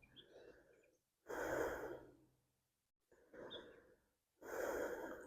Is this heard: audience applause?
no